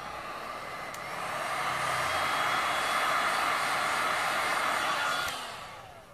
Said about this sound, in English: Now I reckon I'm going to use the heat gun for a little while.